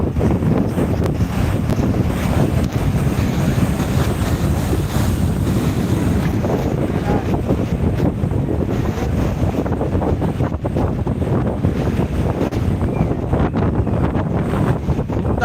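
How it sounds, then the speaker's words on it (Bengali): Rough sea surf pounds the shore at Digha beach while strong wind buffets the microphone in a loud, unbroken roar of crashing waves. "আজকের হলদিঘা সুন্দরী সৈকত কিন্তু একদম উত্তাল হয়ে উঠেছে"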